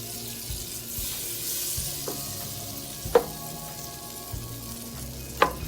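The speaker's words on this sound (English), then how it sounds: "I'm going to add the butter. And we wait for the butter to melt" Butter melts and sizzles softly in a hot pot at the start of a navratan curry, a quiet steady crackle broken by a couple of sharp metallic clinks.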